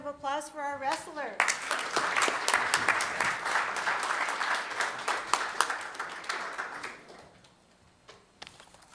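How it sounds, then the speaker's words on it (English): Applause for student wrestlers at a school district board meeting: sustained crowd clapping, loud and steady for about six seconds, then tapering to scattered claps, with brief voices at the start. "one more round of applause for our wrestlers"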